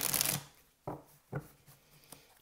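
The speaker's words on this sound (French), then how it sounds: "pendant que je tire les cartes" Tarot cards shuffled and then drawn one by one: a dense riffling burst first, followed by three or four separate soft card snaps spaced about half a second apart, close and quiet.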